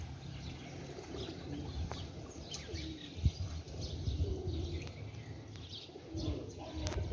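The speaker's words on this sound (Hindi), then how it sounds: "सफ़ेद कबूतर आया है" White pigeons cooing softly among other birds, with low repeated coos, occasional chirps and a brief wing flutter, all fairly distant outdoors.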